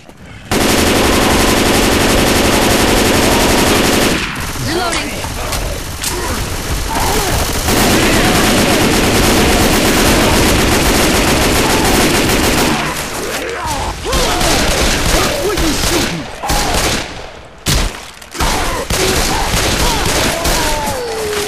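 Dense rapid-fire gunfire from the video game Left 4 Dead 2 played on a Minecraft-style map, loud and nearly continuous automatic bursts with brief gaps and crashes, filling the whole stretch.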